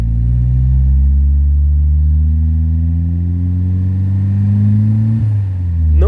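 Engine of a fuel-injected car rising and holding steady in a drawn-out rev, a strong, close, low mechanical drone whose pitch climbs slowly then dips near the end, without speech.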